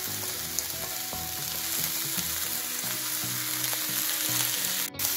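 Sugar snap peas and spicy beef stir-frying in a pan, a steady, close crackling sizzle with occasional stirring clicks, continuous and without talking, ending in a brief sharp knock.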